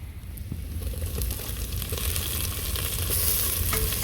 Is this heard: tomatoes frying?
yes